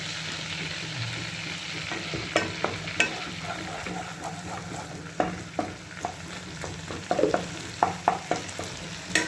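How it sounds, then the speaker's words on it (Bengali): Spice paste frying in oil in a home kitchen, a steady low sizzle broken by sharp scraping clicks of a spatula stirring the pan at irregular intervals. "মশলাটাকে কিন্তু তেলের মধ্যে একটু ভেজে নিতে হবে।"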